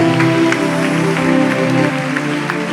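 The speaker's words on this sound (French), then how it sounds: "Acclamez pour le Saint-Esprit." A church congregation claps together in a worship service, a steady wash of applause lasting the whole moment, blended with sustained music beneath it.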